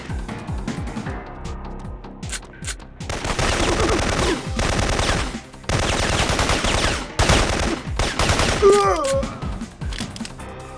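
Bursts of automatic gunfire from the PlayStation game Syphon Filter, loud and sustained in rapid rattling volleys with short gaps, mixed with game music and effects, with a brief electronic chirp near the end.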